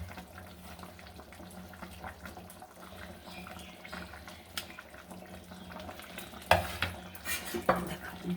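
Fried egg pieces going into a simmering potato and potol curry in a pan, with a steady low bubbling and sizzle, spoon clatter and stirring, and a sharper burst of clinks and scraping near the end.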